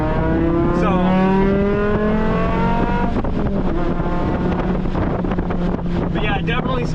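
A Mk5 Jetta races around The Podium Club track, its engine droning and rising in pitch under heavy wind rush from inside the cabin, while people talk over the noise.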